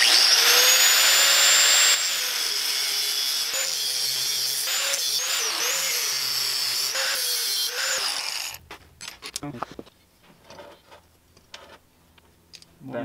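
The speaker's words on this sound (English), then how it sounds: "So let's grind up this perfectly good Craftsman 19 millimeter socket." A Craftsman 19 mm socket is ground on a grinder, giving a loud, shrill, continuous screech for about eight seconds. The grinding then cuts off into scattered clanks and quieter handling noises.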